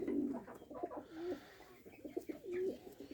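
Low, rolling coos from pigeons nearby, repeating in soft bursts with brief gaps.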